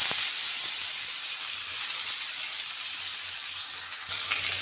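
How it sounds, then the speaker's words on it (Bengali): Leafy greens (saak) frying in an oiled pan: a loud, continuous close hiss of sizzling that holds level throughout, with a faint knock near the end and no voices. "এবার আমি এর মধ্যে শাক দিয়ে দেব।"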